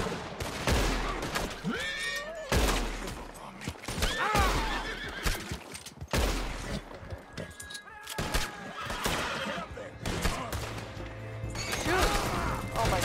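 A horse neighs repeatedly amid clopping hooves in Red Dead Redemption 2, with bursts of gunfire and crashes in between, all with a game-like, mixed quality.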